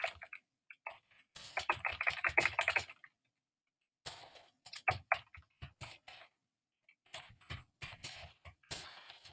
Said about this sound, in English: The reason I'm typing so badly